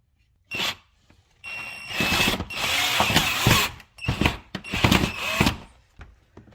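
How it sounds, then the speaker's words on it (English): Metallic ratcheting and clicking bursts come from a screw being driven in while a shark-style grille is fitted to a 2016–2021 Honda Civic, with short irregular runs of tool noise close by and brief pauses between them. "we're just gonna put the first screw in since the 2 holes are aligned"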